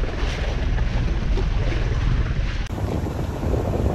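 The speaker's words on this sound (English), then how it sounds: "The waves are just horrendous. The wind is not our friend." Strong wind roars across a microphone on a trimaran sailboat in rough water at sea, with waves rushing beneath it. The sound is loud and continuous, with no voices, and it briefly drops out and resumes near the end.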